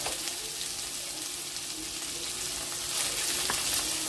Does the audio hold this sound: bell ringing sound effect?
no